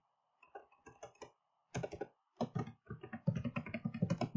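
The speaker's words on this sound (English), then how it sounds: "I'm going to go ahead and type in there services" Close, crisp keystrokes on a computer keyboard come in short bursts with brief pauses between them, quickening into a denser run of clicks toward the end.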